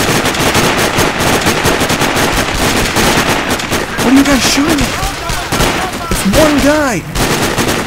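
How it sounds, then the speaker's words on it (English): Rapid automatic gunfire and bursts of shots from the video game Sniper Ghost Warrior, loud and dense throughout, with whistling and ricochet-like sounds and a shouted voice over the barrage. "What are you guys shooting at?"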